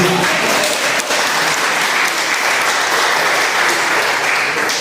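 A congregation at a men's worship service claps loudly and continuously, a thick, even roar of many hands with no pauses, close and full throughout.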